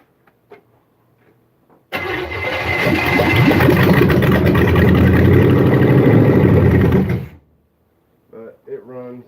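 A 1974 Chevy Nova engine fires up abruptly and runs loud and steady for about five seconds before shutting off, with brief talk afterward.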